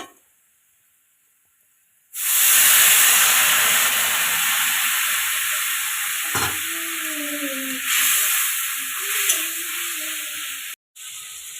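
Water splashed into sizzling spice masala with chilli powder in a pan: after near-silence, a sudden loud steaming hiss bursts out and slowly eases, with faint stirring clinks underneath.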